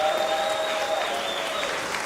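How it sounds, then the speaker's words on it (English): At a fight league event, the crowd claps steadily for two fighters in the ring, a continuous wash of applause under a faint tonal hum. "your applause for Eric Odi and Miles Simpson"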